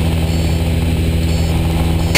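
Steady, loud drone from the right engine of a multi-engine aircraft in flight, an even, unbroken hum with a low throb that holds level for the whole stretch.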